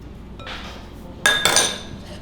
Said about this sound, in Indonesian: Aduk terus sampai kecampur.